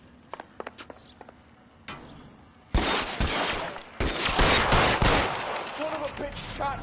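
Gunfire breaks out in the 1940s crime game L.A. Noire: a dense, loud burst of shots after light tapping, then a second sustained volley, with a voice briefly heard.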